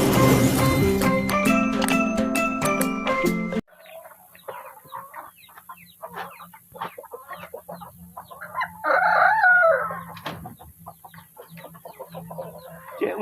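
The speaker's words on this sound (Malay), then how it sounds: "kita tengok anak ayam ni dulu" Chicks and hens in a backyard coop cluck and peep in scattered short calls, near and moderately loud, after a burst of music at the start.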